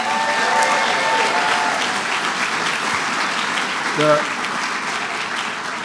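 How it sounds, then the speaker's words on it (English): Audience applause for the governor at an announcement in the Bronx Museum of the Arts, a steady dense clapping crowd held for about six seconds, with a brief voice near the end. "Let's give the governor a strong round of applause"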